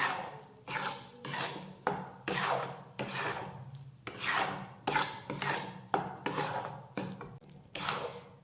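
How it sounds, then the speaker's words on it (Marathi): Modak filling of wheat flour with cashew-almond powder and cardamom powder stirred in a pan, giving a steady series of about fifteen rhythmic scraping, rasping strokes close by, with no voices. "हे सगळं व्यवस्थित मिक्स करून घेऊयात"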